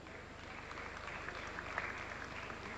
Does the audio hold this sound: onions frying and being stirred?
no